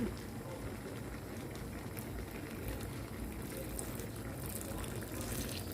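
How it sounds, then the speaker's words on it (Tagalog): A little water is poured into a pot of paksiw fish with vinegar, chili and peppercorns, a soft, faint, continuous splashing and trickling. "Ilagay natin konting tubig."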